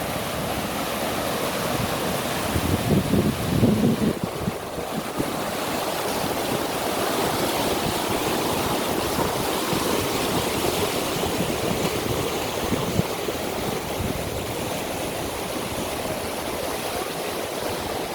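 Whitewater rapids on the East Race Waterway in South Bend, Indiana rush steadily and loudly, a constant broadband roar of churning water with faint wind buffeting and no break throughout.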